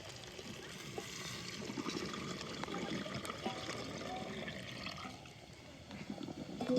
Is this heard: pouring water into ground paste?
yes